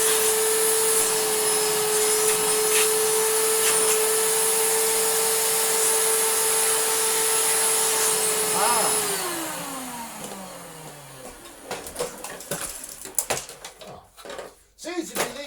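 A repaired Panasonic MC-E465 upright vacuum cleaner, now rated 750 watts and running without a bag, gives a steady high whine, then shuts off and spins down with a falling pitch. Clattering handling noises follow.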